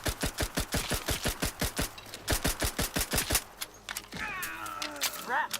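Rapid bursts of automatic gunfire from The Outer Worlds 2 rattle in a steady, evenly spaced rhythm for about three seconds, then give way to quieter game sounds and brief voice-like tones.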